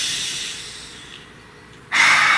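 A person draws a deep breath, a soft, drawn-out airy inhale that fades. It is followed by a sudden louder rush of breath near the end, close to the microphone. No talking.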